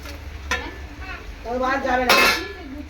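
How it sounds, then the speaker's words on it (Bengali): Fish being stirred into a cumin-paste curry in a pan, with a soft scraping stir, sharp metallic clinks of the utensil against the pan and faint sizzling, under a voice talking. "মাছগুলো দেওয়ার পর আমি একটুখানি এরকম করে নাড়াচাড়া করে দেবো"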